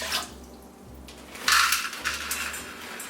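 Water poured into a pot holding rinsed brown rice, a soft splashing pour that swells in short bursts with small clinks, close by, with no talk.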